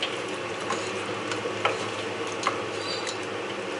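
Tilapia and vegetables sizzle steadily in a pan, with occasional soft scrapes and clinks as the spatula stirs them.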